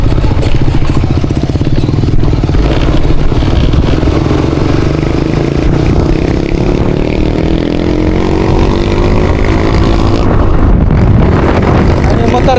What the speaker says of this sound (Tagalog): Ano yung motor ni Adjong yun?